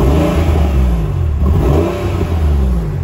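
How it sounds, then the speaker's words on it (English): A 1998 Porsche 911 Cabriolet with a Pfister sport exhaust revs loudly up close, its exhaust roaring and swelling in a deep, throaty surge that dips and rises again. "You can hear the exhaust of this car, it's incredible."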